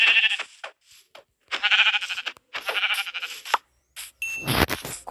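Sheep in the Minecraft video game bleating repeatedly and loudly, several drawn-out wavering bleats with short gaps, ending in a harsher burst.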